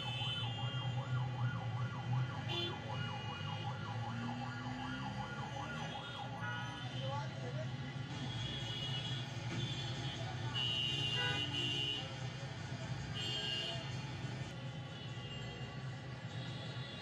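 Street traffic rumbles steadily as a wailing siren rises and falls nearby, car horns toot several times, and faint voices sound in the background.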